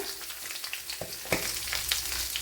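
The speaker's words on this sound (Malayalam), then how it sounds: "ഇപ്പോഴിനി ഇതിലേക്ക് ഒരു വലിയൊരു സവാള ഇതുപോലെ കട്ട് ചെയ്തെടുത്തിട്ടുണ്ട് അത് ഇട്ട് കൊടുക്കാൻ" Sliced onion hits a hot pan for a drumstick-leaf thoran and fries with a soft, steady sizzle, broken by a few brief scrapes and taps of stirring, quiet and without voices.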